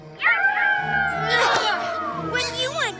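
A cartoon wolf howl from a howl simulator rises and wavers in a long, gliding tone, then comes again briefly near the end, loud and close with a busy, noisy burst in the middle.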